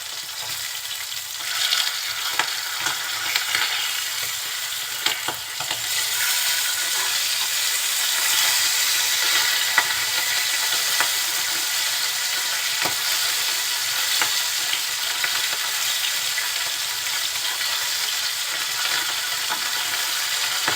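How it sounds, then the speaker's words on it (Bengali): Pabda fish, flipped over, fries in hot oil in a pan with a steady, even sizzle and crackle, close and continuous with occasional spits. "এখন ওই দিকটা মাছটা একটু ভেজে দেবো।"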